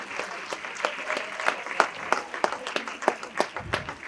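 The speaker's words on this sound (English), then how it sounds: "Round of applause, please." Conference attendees at a nurse immunisation event give the speakers a round of applause. It is a modest, fairly quiet spatter of distinct claps with an uneven rhythm, from a small crowd.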